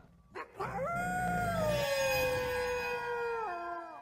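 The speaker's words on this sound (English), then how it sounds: "She howled up at the ceiling." A werewolf child howls upward in an audio drama effect, one long loud rising-then-falling wail after a short yelp, sustained close and alone for about three seconds before tailing off.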